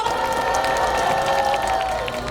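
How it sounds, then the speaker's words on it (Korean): A church prayer-rally crowd in Incheon applauds and cheers to welcome a pastor to the stage, a dense, steady wash of clapping and voices throughout. "박수로 환영해 주십시오."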